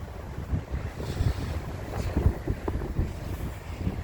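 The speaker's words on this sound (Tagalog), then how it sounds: "Mahangin masyado." Strong wind gusts roar and buffet the microphone outdoors at a shuttle bus waiting area near a cruise port, a steady low rushing with surging peaks and no voices.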